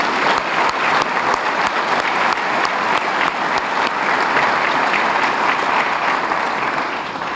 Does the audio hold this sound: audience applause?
yes